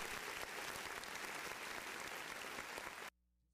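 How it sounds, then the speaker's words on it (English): An audience bursts into steady, dense applause at an event, sustained and fairly loud for about three seconds before cutting off abruptly into near silence. "let me give a big round of applause"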